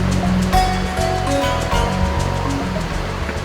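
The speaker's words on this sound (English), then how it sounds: "the trail does meander along the waters of North Sylamore Creek" North Sylamore Creek rushes along beside an Arkansas hiking trail, a loud, steady wash of flowing water with no speech.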